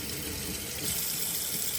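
Tap water pours steadily into a sink, a close, continuous hissing splash that swells slightly louder partway through.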